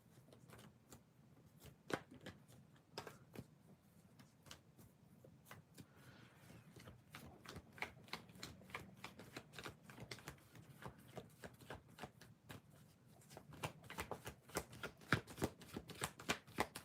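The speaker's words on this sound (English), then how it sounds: "Give me one moment, Daniel, just to shuffle the cards." Tarot cards shuffled by hand in a quiet room, a long run of soft, crisp riffles and taps, close but faint, growing denser toward the end.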